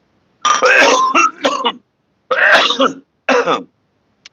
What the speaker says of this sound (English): It's not that type of cough. It's a bone cough, baby.